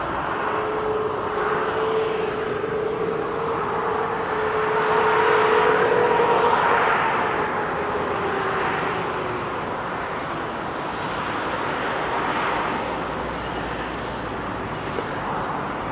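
An ex-KLM Boeing 747 Combi with Rolls-Royce engines departs Heathrow, a steady broadband jet roar that swells and holds for the whole stretch, with a faint tonal whine riding on top.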